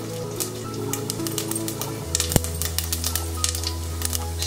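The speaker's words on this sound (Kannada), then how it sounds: "ಸಾಸಿವೆ ಕಾಳು ಚೆನ್ನಾಗಿ ಸಿಡಿಬೇಕು ಎಣ್ಣೆಯಲ್ಲಿ, ಎಣ್ಣೆ ಕಾದಮೇಲೆ." Mustard seeds spluttering and popping in hot oil in a pan on the stove, a steady crackle of small pops with a low burner hum beneath.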